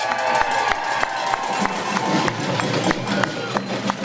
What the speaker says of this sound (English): how about a round of applause for our youth that are here today that are marching for us?